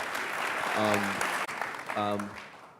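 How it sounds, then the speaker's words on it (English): A round of applause for a panel at a prison reform summit, broad clapping from a room full of people that swells and holds for the length of the clip, with a raised voice speaking over it. "give this panel a round of applause"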